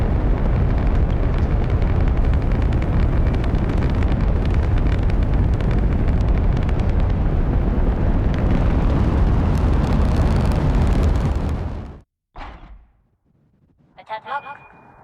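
Rocket launch in Kerbal Space Program 2 with a Science Junior pod: a sustained, loud, broadband engine roar for about twelve seconds that cuts off abruptly, followed by brief fainter bursts and rustles.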